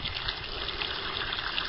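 Hot water from a homemade solar heating coil pours in a steady, hissing stream, close and unbroken throughout.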